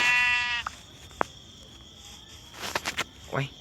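Sheep bleating in the Minecraft video game, a few short synthetic bleats over quiet game background, with a louder burst near the end.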